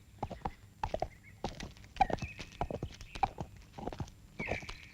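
A ridden horse in a historical royal court scene clip-clops in an irregular rhythm of hoofbeats, with a short whinny near the end; the sounds are fairly faint.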